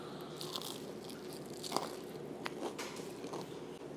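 Crunchy coconut shrimp with honey glaze bitten and chewed close up, a series of sharp dry crunches and crackles over a quiet room hiss, no talking.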